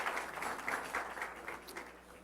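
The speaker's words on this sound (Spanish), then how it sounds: "Vamos a darle un aplauso al Rey de Reyes y Señor de Señores" Congregation applauding during a church service, soft and somewhat distant clapping from many hands, fairly steady across the short stretch.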